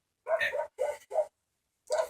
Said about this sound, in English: That's my dog, guys.